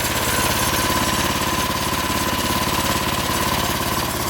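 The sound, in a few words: custom 420cc dune buggy engine idling while warming up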